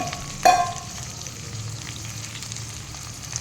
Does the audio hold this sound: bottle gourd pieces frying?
yes